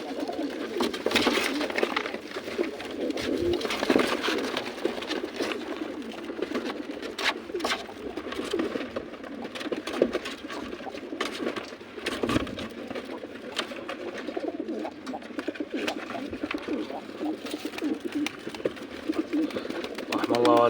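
Pigeons coo steadily in a loft in Fallujah, a soft continuous murmur of several birds while someone talks over them.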